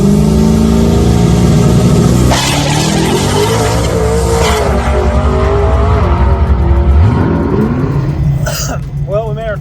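A turbo LS Mustang launches hard down a drag strip, its engine roaring loud and close as it revs up, with tire spin and a rising pull that fades as the car pulls away.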